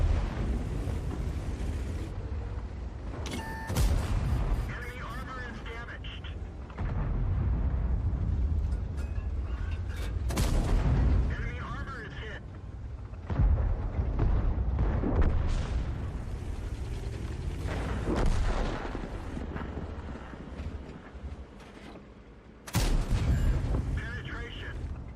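M48 Patton tank gameplay in World of Tanks with heavy cannon blasts and explosions at irregular intervals over engine rumble and wind, with someone talking throughout.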